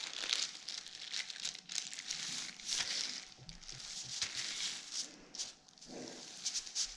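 Paper being creased and folded for an origami Baby Ryujin, close crinkling and rustling in bursts with short pauses between folds.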